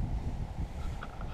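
Wind gusting across a campsite in warm, stormy weather with tornado warnings and intermittent rain, a steady low rumbling buffet against the microphone that rises and falls throughout, fairly loud and close, with no talking.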